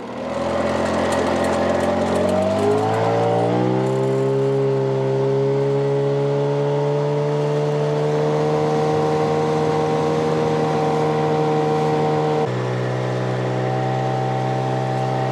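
Outboard motor on a small fishing boat: the engine revs up in pitch, then holds a loud, steady drone close by, with a brief drop in tone near the end.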